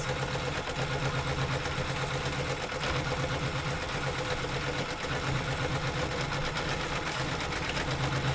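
A sewing machine stitching steadily through a quilting stitch-along, giving a continuous loud mechanical whir with a rapid, even rhythm from start to finish.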